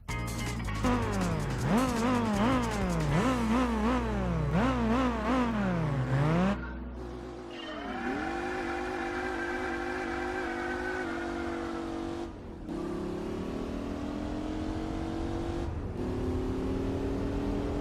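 A race car in Gran Turismo 4 Spec II accelerates hard, the engine pitch climbing and dropping through quick gear changes, then settling into a long, steady high whine with a few brief dropouts.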